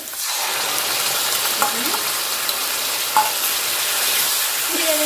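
A spice mix fries in a pan, giving a loud, constant sizzling hiss close up, with a few light scrapes as it is stirred.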